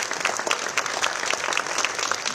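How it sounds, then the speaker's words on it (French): A crowd applauding steadily at a cycling tour presentation in Guadeloupe, many hands clapping at once in a dense, even wash that holds for a couple of seconds. "Je veux entendre des applaudissements pour le président."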